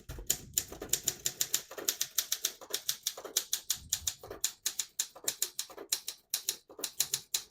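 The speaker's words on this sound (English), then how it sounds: "I'll type a sentence in red on the next line" Rapid keystrokes clack on a 1953 Olympia SM3 portable typewriter in an uneven rhythm, each strike sharp and close, with a few brief pauses.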